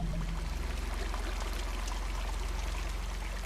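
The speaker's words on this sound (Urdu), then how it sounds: "اس نے پانی کی بالٹی بھری اور جا کر ان جانوروں کے آگے رکھے ہوئے برتنوں میں انڈیلنے لگی" Water pouring from a bucket into vessels set out before animals, a steady, continuous splashing stream that runs unbroken from start to end with no voices.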